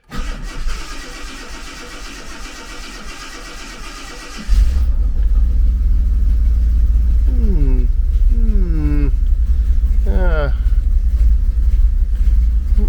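A Reliant Scimitar GTE cranks over from cold and its engine catches at once, settling into a loud, steady low rumble at idle that runs on to the end, close by, with no talk over it.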